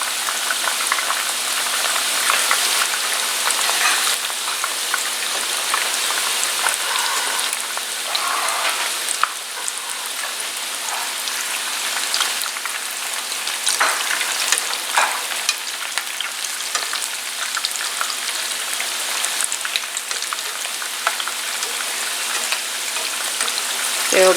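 Chicken taquitos deep frying in hot oil give a steady, dense sizzle and crackle, loud and continuous throughout with no voices over it.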